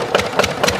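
A 10 horsepower diesel engine converted to run on LPG, pumping water, chugs close by with a steady slow thumping beat of about four firing pulses per second over a low mechanical hum.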